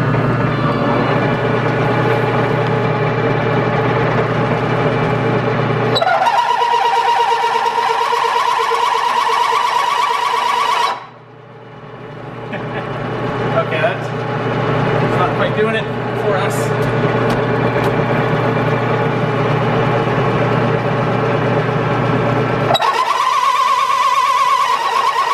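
A lathe spins a workpiece during friction welding at home with a steady motor hum and vibrating whine. Speed drops briefly partway through, then the running resumes. A tonal whine comes and goes.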